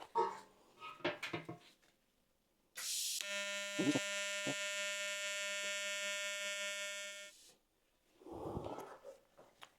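A Jasic TIG-200P AC/DC TIG welder gives a steady, piercing high-frequency electronic whine with many even harmonics, starting abruptly, holding about four seconds, then cutting off, with clatter before and after.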